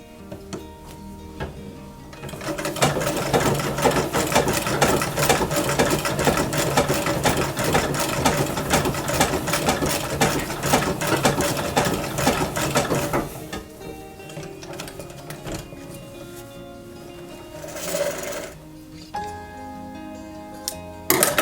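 A 1901 New Home treadle-era sewing machine runs steadily for about ten seconds with a fast, even mechanical clatter and whir, then slows and stops, leaving faint handling noises.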